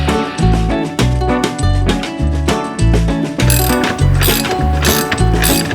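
Ratchet tightening a quick release steering wheel hub on a Mazda Miata, with loud, close, rhythmic bursts of clicking pawl strokes repeating roughly every second, no talk.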